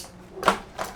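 Small knife slicing through van sound deadening material, two short crisp cutting scrapes close by against a quiet background.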